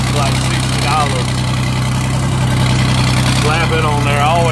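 A John Deere 4430 tractor with a hydraulic leak and missing muffler runs steadily after a cold start, a loud continuous low idle drone with faint talk in the background.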